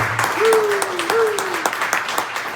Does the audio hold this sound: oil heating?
no